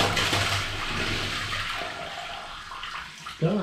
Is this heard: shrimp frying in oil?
no